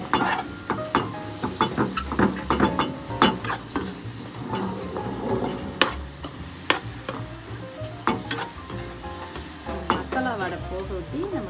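Ginger garlic paste sizzles in a hot pan for a mushroom peas gravy, with a soft steady frying hiss broken by repeated scraping strokes of a spoon stirring it around.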